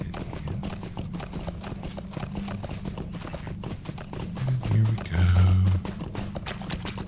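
Steady clip-clop of a horse galloping through swamps in the video game Lord of the Rings Online, rhythmic and continuous, with a faint whinny and some background game ambience.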